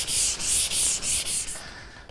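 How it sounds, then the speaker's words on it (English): A wooden paymaster's desk top being hand sanded: about five steady back-and-forth strokes, close and evenly rhythmic, with a raspy scratching texture and no talking. "that just about takes care of the sanding on the top"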